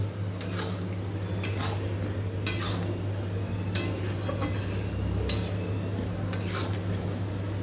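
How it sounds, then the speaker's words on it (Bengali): Food is stirred and mixed with spices in a pot, the spoon scraping and clinking against the metal in irregular strokes over a steady low hum, fairly close and moderate in level. "ভালো করে নাড়াচাড়া করে দেবো, মশলার সঙ্গে মিশিয়ে নেব।"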